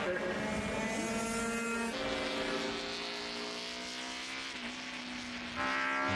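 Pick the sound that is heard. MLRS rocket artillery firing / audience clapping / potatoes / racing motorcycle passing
racing motorcycle passing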